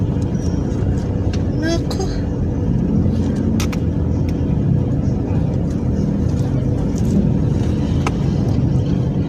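Car driving slowly in heavy traffic on the way to a party, steady engine and road rumble from inside the vehicle, with occupants chatting and brief higher sounds over the continuous drone.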